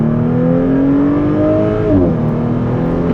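A stock 2022 Audi S5 Sportback accelerates down a straightaway, engine note rising loud and steady, then briefly dipping at a gear change before pulling on, heard from inside the car.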